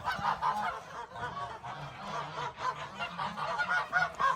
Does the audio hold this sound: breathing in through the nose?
no